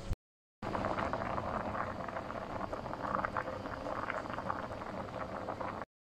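Lentil soup boils in a pot on the stove, giving a steady bubbling, rumbling hiss that continues evenly for several seconds after a brief cut at the start, fairly quiet and with no talking.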